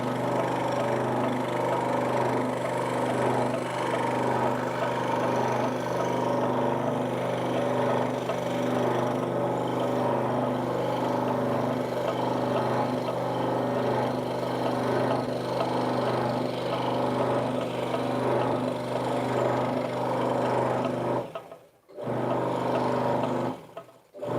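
A scroll saw with a freshly fitted blade runs steadily while cutting out a wooden name plaque, a loud continuous motor hum with a rapid buzzing chatter that cuts off briefly near the end before resuming.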